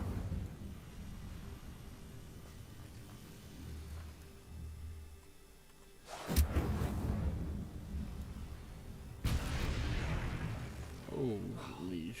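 Incendio, a fire spell in the Hogwarts Legacy video game, erupts in two loud, sudden bursts, each followed by a roaring crackle, over quiet game ambience.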